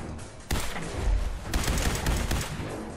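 Rapid gunfire from a weapon in the video game Fallout 4 bursts out in a dense, booming volley after a brief quiet start, loud and continuous for a few seconds.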